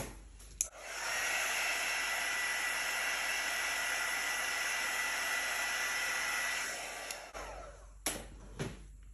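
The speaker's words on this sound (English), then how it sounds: "I'll just hit it with the heat embossing tool one more time." A heat embossing tool blows hot air over fluid paint with a steady, loud whooshing hiss for several seconds, then switches off, leaving a few faint clicks and taps.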